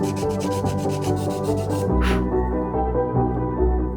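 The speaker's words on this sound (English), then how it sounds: "Once it's dry, I sanded it all over again until I achieved the smoother look I wanted." Sandpaper rubs over a wood-filler coated cardboard dial in a steady, continuous scratchy stroke, close up and fairly loud, without talk.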